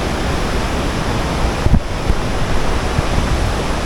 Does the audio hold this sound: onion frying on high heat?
no